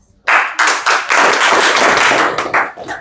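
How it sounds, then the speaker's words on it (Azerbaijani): An audience claps for children at an award ceremony held at a party headquarters, where teenagers are honoured for their handicrafts. Dense, steady applause starts almost at once and continues for about three seconds, then thins toward the end. "Alqışlayaq. Uşaqlar."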